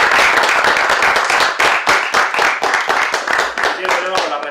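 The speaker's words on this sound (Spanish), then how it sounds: "Así que un aplauso para todos." Applause from an audience at a civic talk, many hands clapping in a quick, dense patter that is loud at first and thins slightly toward the end, with no voice over it.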